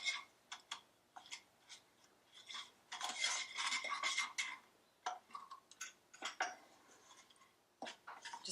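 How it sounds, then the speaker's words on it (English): A utensil stirs melting butter, sugar and syrup in a pan, making soft irregular scrapes and clinks against the metal, quiet and close, with no talking. "Keep stirring all the time, because the butter can separate if you're not careful from the syrup and the sugar"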